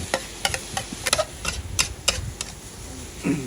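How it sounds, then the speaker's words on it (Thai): Beef and red curry paste stir-fried in a pan, a run of sharp scraping and clattering strokes from the spatula over a low sizzle, close and fairly loud, with no talking. "ผัดเนื้อกับพริกแกง"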